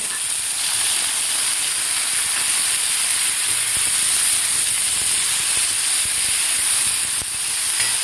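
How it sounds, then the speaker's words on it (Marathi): Chopped tomatoes hit a hot pan with roasted garlic and cumin for a spicy chili-tomato thecha, producing a loud, steady, close hiss of sizzling steam throughout, with no talking. "आता यामध्ये घालायचं आपल्याला कापून घेतलेले टोमॅटो."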